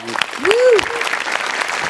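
Studio audience at a Marathi comedy show applauding, a dense burst of clapping heard close, mixed with a brief vocal tone and crowd noise.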